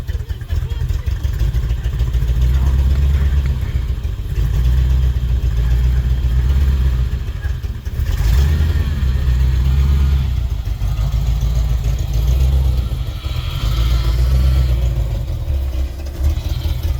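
A classic stick-shift car engine rumbles loud and close, a deep steady idle with slight swells in revs throughout.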